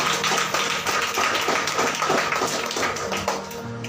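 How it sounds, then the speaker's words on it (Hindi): An audience in a Hindi-language church gathering claps in the name of Jesus, a dense run of overlapping hand claps sustained for several seconds with no voices on top. "कोई तो भी ताली बजाओ यीशु के नाम।"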